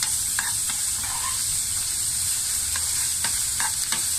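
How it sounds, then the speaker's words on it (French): Onions frying in a pan give a loud, continuous sizzle with bright hiss, broken by several sharp stirring scrapes and clinks near the end, with no talking. "Donc voilà les amis, donc on va faire ruisseler les oignons."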